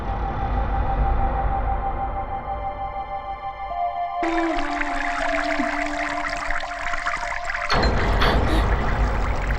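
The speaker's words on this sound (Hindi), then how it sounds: "अरे, ये पानी की आवाज कैसी? नल किसने खुला छोड़ दिया?" Water running from an open tap indoors, a steady gushing and trickling wash that shifts in tone partway through and grows fuller near the end, with no talking.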